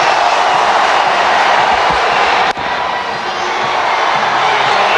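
A dense, loud roar from a cricket crowd at Eden Park during a tense last-ball finish. The cheering surges without a break, dips for an instant and then swells again.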